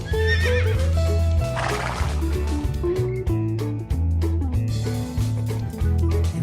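A horse whinnies as a sound effect, with a wavering neigh near the start, set over continuous loud music with steady bass and melodic tones throughout.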